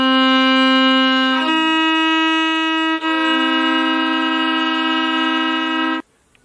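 A violin sustains bowed double stops, a low C with an E above it, in clear harmonic tones that hold steadily across several bow strokes before cutting off abruptly near the end.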